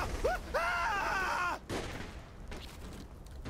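Gunfire in the video game Saints Row The Third, a rapid fusillade of shots cracking for about a second and a half, then scattered shots and rumbling battle noise trailing off.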